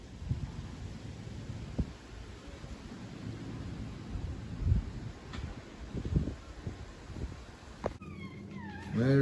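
A tuxedo cat named Edmund gives a few soft, close meows and small vocal sounds over a quiet indoor hum, with a brief louder chirp near the end.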